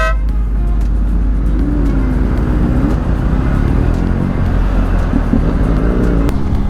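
Delhi superbike group ride setting off together, a dense steady roar of many motorcycle engines idling and pulling away close by, with a horn toot early on, loud throughout.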